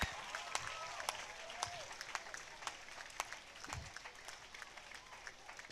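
An audience at a school speech and prize-giving day claps in a modest, loose round, with distinct hand claps standing out over a low murmur of the crowd.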